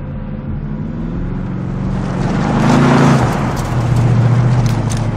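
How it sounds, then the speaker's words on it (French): Two military vehicles in Call of Duty Modern Warfare rumble steadily with a low engine drone that swells and grows louder midway, then holds under a dense layer of ambient battlefield noise. "deux véhicules qui font route vers le sud, extrémité du champ"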